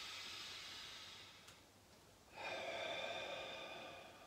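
A deep breath drawn in slowly through the nose to fill the stomach and rib cage, a faint airy hiss that swells partway through and holds steady, quiet and close.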